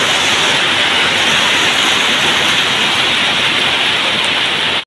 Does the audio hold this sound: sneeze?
no